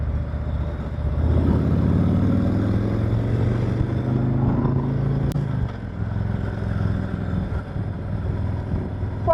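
A sport bike motorcycle passes close by on a road, its engine note rising and holding for several seconds over the steady drone of the car, then fading away.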